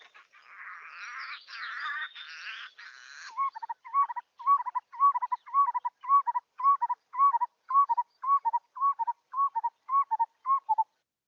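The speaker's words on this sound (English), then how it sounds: "the familiar call of this barbet is actually an impeccably timed duet between the sexes" A barbet pair sings a male-female duet, opening with a burst of harsh chattering notes and then settling into a long series of evenly spaced, repeated whistled notes, clear and fairly faint against silence.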